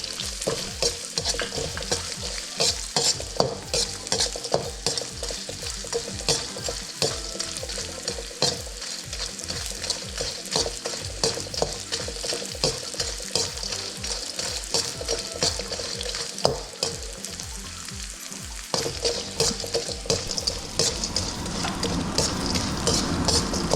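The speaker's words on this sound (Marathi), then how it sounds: "डिंक तळून घेतलाय, असं सगळं तळून घेते" Edible gum (dink) frying in a pan and being stirred for fasting laddu, a continuous close sizzle with frequent rapid spoon scrapes and clinks against the pan, no talk.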